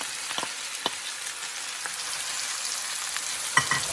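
Sliced onions and green chillies sauté in hot oil with cumin and dried red chillies for a Kerala-style egg roast, making a continuous close sizzle with a few soft stirring scrapes.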